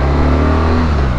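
BMW R12 motorcycle engine idling in neutral while stationary, a loud, steady low rumble with even pulsing, recorded close up.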